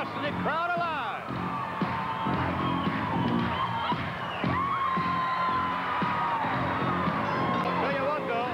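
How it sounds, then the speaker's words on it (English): A capacity crowd at a professional wrestling match cheers and whoops continuously, with shouts and hollers rising over a dense roar of voices. "Junkyard Dog bringing his capacity crowd alive."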